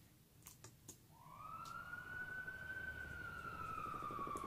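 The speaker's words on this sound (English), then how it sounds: "we're starting off with the siren." A siren sound effect in a song wails in a rising sweep then holds a steady high tone, with a few faint clicks at the start.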